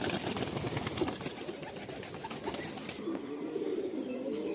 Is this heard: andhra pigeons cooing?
yes